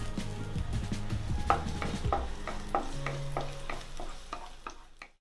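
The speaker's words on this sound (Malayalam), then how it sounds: "ഇനി ഇതൊന്ന് ചെറുതായിട്ടൊന്ന് വഴറ്റിയെടുക്കണം" Chopped garlic sautéing in a pan for a vegetable soup, with clinking stirring strokes at a steady rhythm over a soft, close sizzle and no talk.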